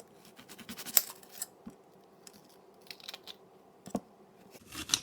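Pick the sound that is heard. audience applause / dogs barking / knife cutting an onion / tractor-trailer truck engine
knife cutting an onion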